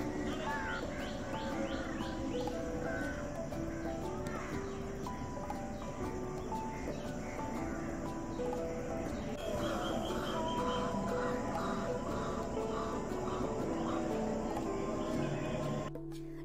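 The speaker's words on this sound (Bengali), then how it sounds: "পাখিদের এখন ঘরে ফেরার পালা" Many birds call and chirp together at dusk as darkness falls and they return to roost near a house veranda, a dense, steady chorus of overlapping tonal calls running throughout at moderate distance.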